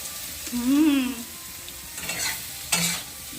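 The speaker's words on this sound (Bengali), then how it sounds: "কম তেলে ভাজা পটল" Pointed gourd (potol) frying in a small amount of oil: a soft, continuous sizzle with stirring scrapes, a brief tonal squeal early on and a sharper burst near the end, heard without talk.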